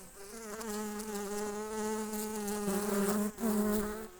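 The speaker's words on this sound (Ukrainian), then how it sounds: "Молода бджола, багато молодої бджоли." Close, continuous buzzing of young honeybees at a hive, a dense steady drone with a brief dip near the end, no talking.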